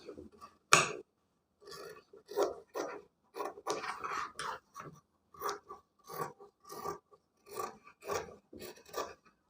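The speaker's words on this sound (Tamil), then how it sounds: "இப்போ எக்ஸஸாக இருக்கிற கிளாத்தை கட் பண்ணிக்கிறேன்" Scissors snip through excess blouse cloth up close, a steady series of short, crisp cutting strokes roughly every half second, with quiet gaps between them and no voices.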